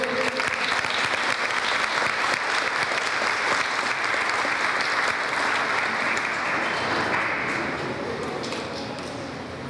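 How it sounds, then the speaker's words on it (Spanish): Sustained, loud applause from a church congregation at a bishop's consecration in Nacaome, a dense steady patter of many hands that carries on for the whole stretch and tapers slightly toward the end. "Le podemos dar un fuerte aplauso a él."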